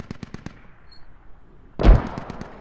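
Video game gunfire rings out as a quick burst of four or five sharp shots, a short pause, then a louder cluster of shots with a heavy boom, close and without talk.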